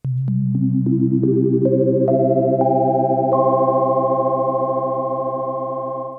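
Prophet Rev 2 synthesizer tones from a ring mod patch sound one after another, each new note layering over the last into a sustained buzzing, metallic chord, dry with no effects and no other sounds.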